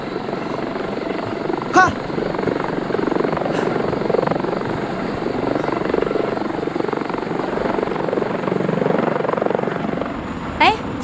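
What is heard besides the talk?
helicopter flying overhead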